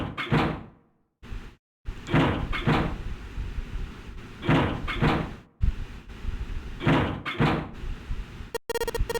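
Locked doors in Nine Hours Nine Persons Nine Doors rattle and thunk as each is tried in turn, several separate bursts of handle jiggling and knocking with short silent gaps between them.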